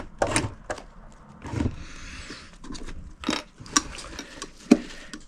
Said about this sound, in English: going to overlap the original stitching, go back on myself, so that locks the original stitching in